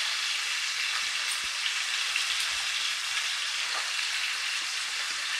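A handful of curry leaves frying in hot oil in a pan for a Telangana bottle gourd curry, giving a steady, dense hiss and crackle throughout with a few small pops, close up and with no talk.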